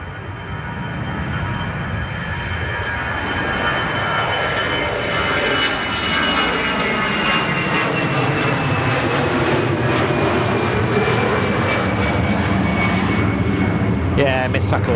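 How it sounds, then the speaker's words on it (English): An Airbus A320 airliner departs Manchester Airport bound for Dublin, its engine roar loud and steady throughout, with a rising whine near the end and people talking faintly underneath. "Airlines A320 returning to Dublin."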